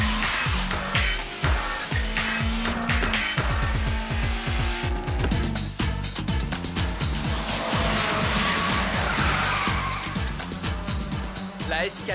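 A Nissan S14 race car, a non-turbo 2-litre, launches at a race start with loud engine revving, rising gear-change sweeps and tire squeal, racing engines roaring nearby with voices over the noise.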